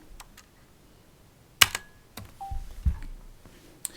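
Sparse keystrokes on a computer keyboard, a handful of isolated clicks spaced irregularly, close and fairly quiet with a few faint interface beeps.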